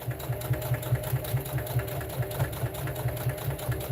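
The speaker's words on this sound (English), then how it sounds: "I'm stitching that hole closed." Sewing machine stitching a hole in a tote bag closed, running steadily with a fast, even mechanical chatter and regular thumping pulses, close and continuous.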